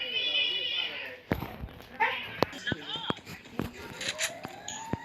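A cat meows several times outdoors near a tree, short rising and falling cries scattered among footsteps and background noise, fairly close.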